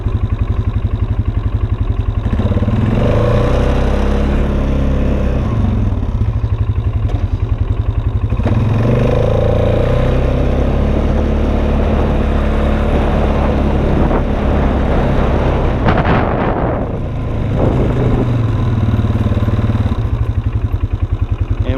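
A Polaris Sportsman 570 EPI ATV fitted with a clutch kit revs at wide open throttle, a loud continuous engine roar that climbs and dips in pitch several times over about twenty seconds, close up and with no talking.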